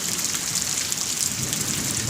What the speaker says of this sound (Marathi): पावसाच्या सरी